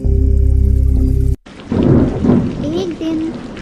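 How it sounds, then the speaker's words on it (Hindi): Heavy rain and rolling thunder play as a sound effect in a Hindi devotional story. The storm starts abruptly after a low droning tone cuts out, bringing dense close rain with deep rumbles swelling beneath it. "तेज बारिश होने लगती है"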